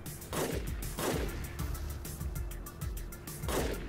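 Sniper rifles firing in the video game Warpips, several sharp shots repeating at a steady rhythm of about one per second over a dense battle din of gunfire and explosions, loud and close.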